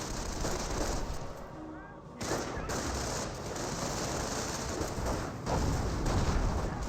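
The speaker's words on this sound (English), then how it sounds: "The M10s are getting some good hits on the Panther" M10 tank destroyers fire on a Panther tank in Company of Heroes, heard as dense, continuous battle gunfire and blasts with a brief gap near the middle, then the barrage resumes at steady loudness.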